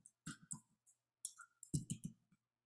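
Several sharp, close keystrokes on a Mac keyboard as a file name is typed into a bash terminal, arriving in two quick bursts separated by a short pause, with no other sound.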